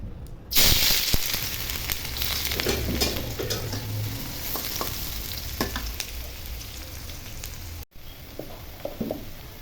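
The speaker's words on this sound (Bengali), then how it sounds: "প্রথমে আমি একটা শুকনো মরিচ দিয়ে দিব কিছুক্ষণ ভেজে" A dried red chili drops into hot oil in a karahi and bursts into a loud sizzle that settles to a steady crackling fry with scattered stirring clicks, cut briefly near the end before resuming more faintly.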